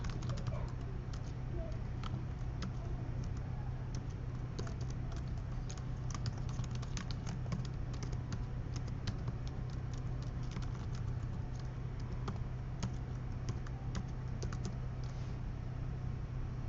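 Someone types on a computer keyboard with a run of light, quick clicks that come in uneven bursts over a constant low hum.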